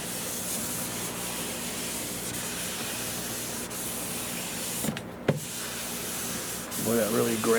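A French-polished wood finish is lightly scuffed to lift lint, giving a steady close rubbing hiss throughout, with a brief pause and a small knock midway before the rubbing resumes.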